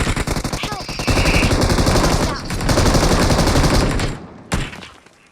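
Loud, close automatic gunfire in PUBG Mobile, long rapid bursts of shots that run almost continuously for about four seconds, then stop briefly before one more short burst.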